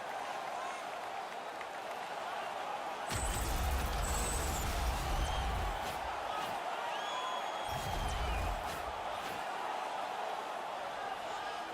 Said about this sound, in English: this crowd still buzzing after what we saw